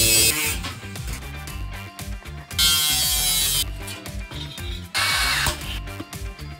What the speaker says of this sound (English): We're going to weld it back together